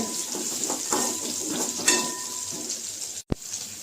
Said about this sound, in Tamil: மிதமான தீயில் கட்டாயம் வதக்கிங்க